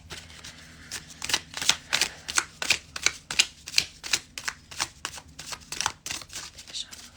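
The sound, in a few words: shuffling a deck of tarot cards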